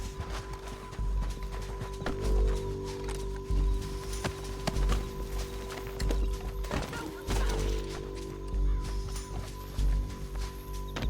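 Horse hooves clip-clopping along at a steady pace in the Red Dead Redemption 2 video game, with game music and ambient sound underneath, moderately loud and continuous with no talking.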